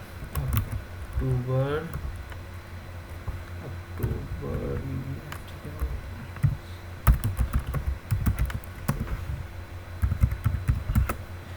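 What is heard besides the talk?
typing on a computer keyboard in Excel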